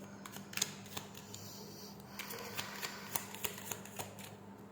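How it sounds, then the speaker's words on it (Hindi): Tarot cards being shuffled by hand indoors, giving faint, scattered soft clicks and light slaps in an irregular rhythm over a low steady hum, with no talking. "कार्ड्स को शफल कर लेती हूँ अच्छे से।"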